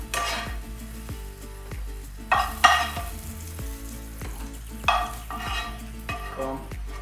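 Onion and garlic fry in a pan, holding a bright, steady sizzle broken by repeated sharp scrapes and knocks of a utensil stirring against the pan.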